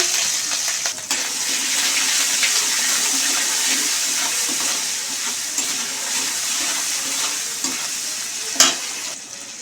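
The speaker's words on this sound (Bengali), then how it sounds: "তেলের ভিতর দিয়ে দেবো জিরে ফোড়নে জিরে ফোড়ন দেবো টমেটো কুচি দিয়ে দেবো" Cumin seeds, chopped tomato and ginger hitting hot oil for a fish curry, a loud steady close sizzle with scattered crackles and one sharp clatter near the end.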